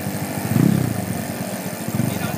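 A motorcycle engine idles and rumbles through its exhaust, throbbing steadily at close range with a brief rise in revs, while voices murmur faintly in the background.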